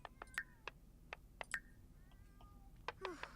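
Several cats in The Sims 4 meow in short, separate calls, a quick run of brief mews with a longer one near the end, clear and fairly close, no talking.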